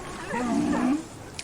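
Seals groan and roar in a single drawn-out, throaty bellow lasting about a second, close and fairly loud, followed by a faint brief click.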